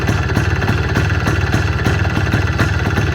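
A repaired motorcycle engine idles close by with a loud, steady, evenly pulsing chug and a faint vibrating rattle. No voices are heard over it.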